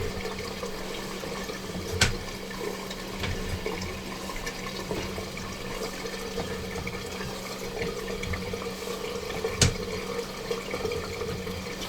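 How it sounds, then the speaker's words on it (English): Water from a laundry tub trickling steadily through an underground sewer pipe, a continuous hollow rushing wash broken by a couple of faint knocks, with no voices. "We have a little bit of water flowing from the laundry tub to observe flow characteristics"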